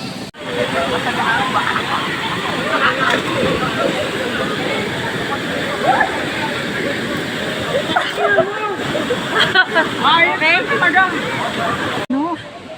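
Sprite Falls pours in a steady broad rush of falling water, with voices talking over it at several points.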